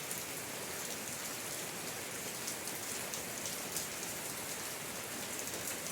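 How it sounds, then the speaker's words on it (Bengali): Light drizzle falls steadily over a rural village under a cloudy sky, a soft continuous patter of fine raindrops with no voices. "গুড়ি গুড়ি বৃষ্টিতে সারাদিন"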